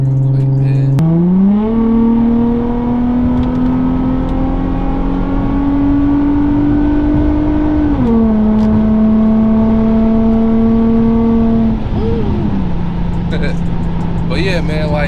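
An Infiniti G35 accelerates onto a freeway, its engine note climbing steadily through the gears with clear drops at each shift, heard loudly from inside the cabin.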